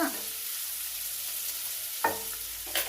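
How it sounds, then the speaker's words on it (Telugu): Onions frying in a pan for a fenugreek and spinach leaf fry, a steady bright sizzle throughout with two brief stirring scrapes, no talking. "ఉల్లిగడ్డలు వేసుకోవాలి. కొంచెం ఉల్లిగడ్డలు వేగిన తర్వాత"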